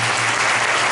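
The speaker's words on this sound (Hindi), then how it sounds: "हम जोरदारी से मजे के लिए ताली बजाएंगे" A church congregation bursts into loud, dense applause, a brief, even burst of many hands clapping together.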